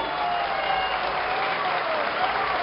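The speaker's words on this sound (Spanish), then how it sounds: "Un aplauso para él." Audience applause for a young requinto guitar player at a live music performance, a steady, even wash of clapping throughout, moderately distant and without talk.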